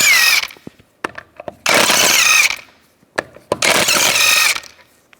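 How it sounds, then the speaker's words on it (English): A power tool with a 17mm socket buzzes in three loud, close bursts, taking lug bolts off a 2007-2013 Mini Cooper wheel, with brief clicks and clatter in the pauses between. "I'm going to use a 17mm socket, take the lug bolts out."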